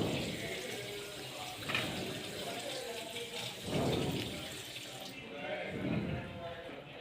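A tap runs into a bathroom sink while someone brushes their teeth, a steady close water noise with faint scrubbing and splashing surges. A voice talks over part of it.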